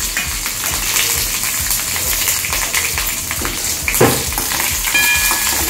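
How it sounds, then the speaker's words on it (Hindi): Mustard seeds crackling and sizzling in hot oil with curry leaves and green chillies, a steady close frying hiss with scattered pops and a sharper crack near the end. "राई अच्छे से क्रैकल हो जाएगी"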